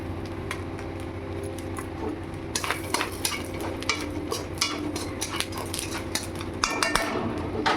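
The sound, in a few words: fennel seeds sizzling in hot oil for tempering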